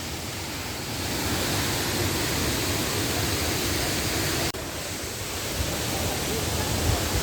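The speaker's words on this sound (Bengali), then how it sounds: "এই হলো বাকলাই ঝর্ণা।" Baklai waterfall in Thanchi, Bandarban, water plunging from a great height into the pool below, a loud constant roar filling the scene from close range, unbroken apart from a brief cut midway.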